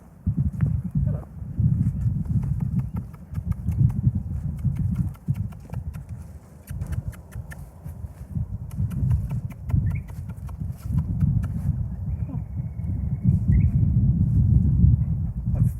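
A horse clip-clops close by on hard ground, its hoof falls coming in an uneven walking rhythm over rumbling wind noise, with a faint bird and occasional voices.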